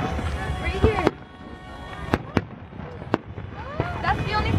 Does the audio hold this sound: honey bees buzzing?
no